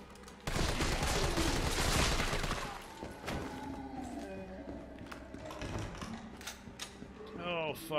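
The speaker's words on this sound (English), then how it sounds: "Use this big old machine gun all game" Carlos fires a big machine gun in Resident Evil 3 Remake: a loud burst of rapid automatic fire lasts about two seconds, followed by quieter clatter, scattered impacts and short electronic tones.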